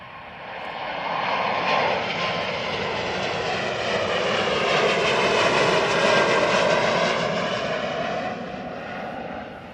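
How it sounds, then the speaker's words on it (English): A Virgin Atlantic Airbus A350 jet taxis at Manchester Airport, its engines giving a steady, loud, broad roar that swells slightly and holds throughout, heard alone without talk. "Taxiing out now on the Virgin A350."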